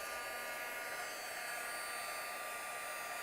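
A heat tool blows a steady, even whir of hot air while melting embossing powder, constant and close with no pauses or voices.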